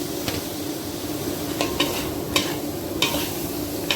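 Onion and red chili stir-fried in a pan as part of a curry-powder squid dish, with a steady sizzle under repeated spatula scrapes and knocks against the metal, close and without talk.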